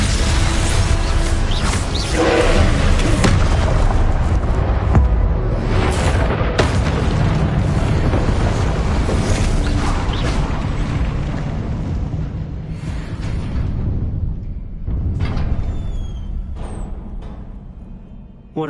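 A Confringo explosive spell in the Hogwarts Legacy video game erupts in loud, booming blasts with rumbling debris, dense and sustained through a combat sequence before tapering off, with a sharper burst near the end.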